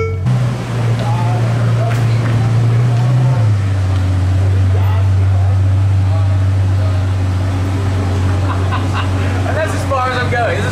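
A Ferrari 812 Superfast V12 idles steadily up close, its low drone dropping slightly in pitch partway through and holding there, with a person talking over it.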